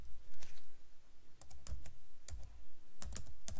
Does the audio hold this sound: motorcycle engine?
no